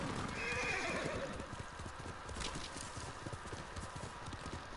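A horse in the video game Ghost of Tsushima whinnies near the start, followed by steady clip-clop hoofbeats of the horse moving along, fairly quiet and close.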